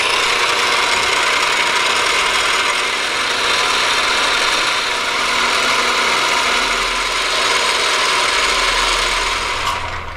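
Drill bit boring holes through a black anodized aluminum heat sink, a steady loud grinding rasp running continuously without pause, with no talking.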